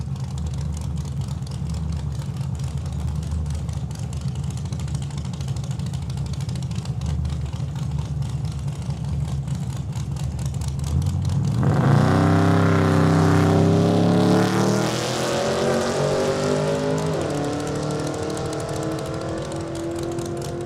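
A 1982 Chevrolet Camaro at Saskatchewan International Raceway idles roughly, then launches down the drag strip with a loud rising engine roar that climbs through the gears and fades into the distance.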